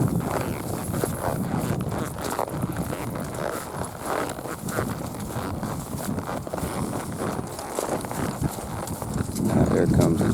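Hooves of a 13-year-old spotted saddle gelding clip-clop steadily across the ground as he slows from a lope, a continuous close rhythm mixed with broadband outdoor noise and occasional talk.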